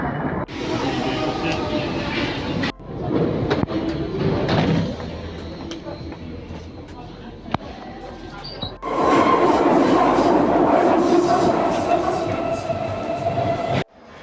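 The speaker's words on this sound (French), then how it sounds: "Bon, j'ai survécu au métro." A Paris metro train on line 13 rumbles and clatters along the track. Sharp door or coupling bangs break up the ride, and the car roar grows louder and brighter in the second half.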